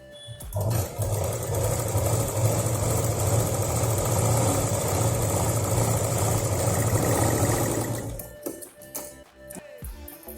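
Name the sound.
sewing machine stitching fabric for a handbag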